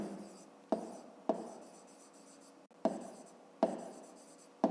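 Pen writing in a school notebook, a series of sharp scratchy strokes repeating at irregular intervals, each tapering off, close and fairly quiet with no talk.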